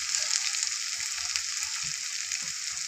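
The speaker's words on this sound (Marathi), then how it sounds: "गॅस मिडियम करून परतून घ्या" Tomato paste masala sautéing in a pan over medium heat gives a continuous, even, close sizzle that holds steady throughout without talking.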